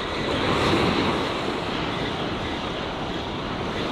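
Ocean surf on a fishing beach, a steady broadband roar of breaking waves with wind noise, loud and continuous with no voices.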